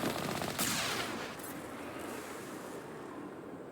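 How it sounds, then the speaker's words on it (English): A big explosion in the video game Mass Effect bursts loudly, then settles into a long rumbling, crackling roar with rapid gunfire-like pops that fades slightly but keeps going. "That's a big explosion."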